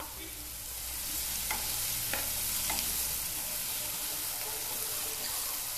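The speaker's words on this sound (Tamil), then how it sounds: "நல்லா பிங்க் கலராக மாறின உடனே இது கூட 4 பச்சை மிளகா, கருவேப்பிலை சேர்த்து இது மாதிரி வதக்கிக்கலாம்" Shallots frying with green chillies and curry leaves for a white vegetable kurma, a steady broadband sizzle with a few sharp spoon scrapes against the pan, close and fairly loud, no talking.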